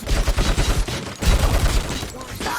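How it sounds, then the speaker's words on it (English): Dense, rapid gunfire from enemies shooting in RoboCop: Rogue City, sustained bursts of overlapping shots filling the whole moment at close, loud range with almost no pause. "Oh, these shoot so beautiful. Too bad they're shooting at me."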